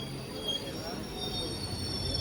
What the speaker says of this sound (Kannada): ಏನು ಇದ್ದಕ್ಕಿದ್ದಂಗೆ ನಮ್ಮ ಟ್ರೈನ್ ಕೂಡ ಸ್ಲೋ ಮಾಡಿದರು